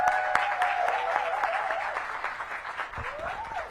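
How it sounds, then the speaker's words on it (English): An audience at a holiday market launch event applauds steadily, a dense wash of clapping hands with a few whoops, tapering slightly toward the end. "Please give a warm round of applause for Rachel Rose Hartman."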